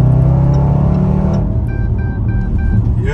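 SUV engine with an 8-speed gearbox revving loudly and steadily, then the note drops sharply as the transmission shifts gear, leaving a lower, quieter drone with faint electronic chimes.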